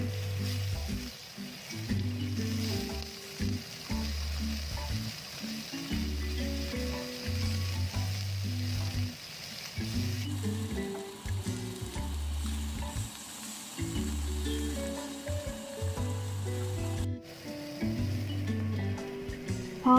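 Slices of pork sizzle steadily in a pan while frying for Japanese pork shogayaki, with a continuous close, loud crackle and occasional stirring or turning noises over a low rhythmic hum.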